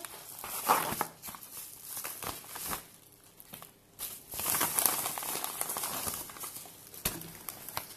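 Crinkling plastic and paper packaging of a Yves Rocher gift parcel being opened up close, with soft rustles and scattered taps coming in uneven bursts, no voices.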